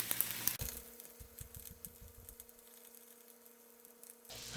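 Burgers frying in a pan give a steady soft crackling sizzle with scattered pops, heard close up after a short burst of handling noise at the start, with no talk.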